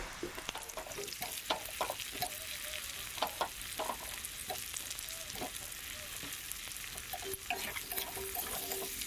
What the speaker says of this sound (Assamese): এতিয়া আলু আৰু পিঁয়াজখিনি অলপমান ভাজি ল'ম।